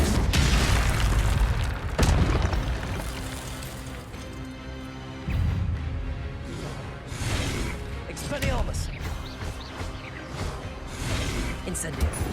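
Fire spells cast in the Hogwarts Legacy video game burst out in loud booming explosions and whooshes, several blasts in succession over a dense game soundscape, with a player talking over the action.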